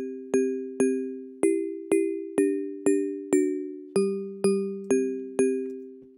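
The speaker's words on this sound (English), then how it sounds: "The first layer being this Bell's Glass layer, which I think is just a preset in Ableton." Ableton's Bell's Glass mallet preset with a single resonator plays a soft chiming bell-glass melody, eleven evenly spaced struck notes with ringing overtones, each decaying before the next, alone with no voices.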